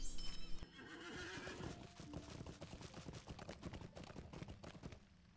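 Horse hoofbeats galloping in the Lord of the Rings Online game, a steady rapid clatter of hooves that starts after a brief whinny-like sound and continues loud and close with no talk.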